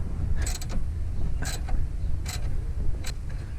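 A 3/4 wrench and socket work a strut nut loose on a GMC Acadia, making a few sharp metallic creaks and clicks at intervals over a low steady background hum.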